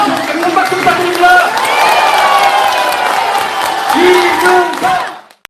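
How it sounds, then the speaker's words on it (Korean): An outdoor Korean political rally crowd claps and cheers loudly at close range, with shouts and whoops rising over the applause before it fades out at the end. "박수 부탁드립니다."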